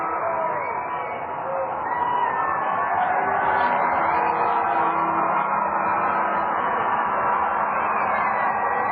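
A minor-league baseball crowd at a Cedar Rapids Kernels home game roars steadily over a radio-quality broadcast feed. The band-limited, distant wash of voices holds at an even level throughout, with no clear single shouts.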